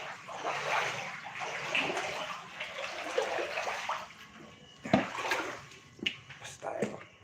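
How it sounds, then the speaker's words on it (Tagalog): Rising floodwater in Macabebe, Pampanga, sloshing and rushing in a steady, moderately faint wash with small splashes throughout. "Ayan, tubig."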